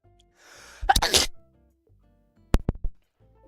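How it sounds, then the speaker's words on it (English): A person sneezes once with a sharp, loud burst after a short breathy intake, then a cluster of quick clicks and taps follows in an otherwise quiet room. "Just sneezed."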